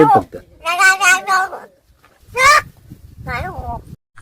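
A talking crow gives three loud, harsh, voice-like calls separated by short pauses, close and prominent, with the calls sounding partly like imitated speech.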